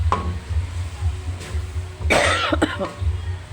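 A single harsh cough bursts out close by, followed by a short throat-clearing sound over a low steady hum.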